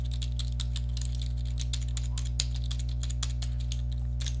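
Steady, rapid typing on a computer keyboard while a Z80 emulator is in use, with crisp clustered key clicks over a constant low electrical hum, no voices.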